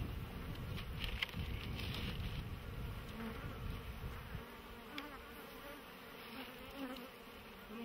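A steady, dense buzzing of many bees close by at a beehive, continuous throughout with faint rustling underneath.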